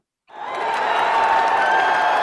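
A crowd of Tampa Bay Buccaneers fans cheering, a loud, dense roar of voices and whoops that rises out of silence and holds steady, close and sustained.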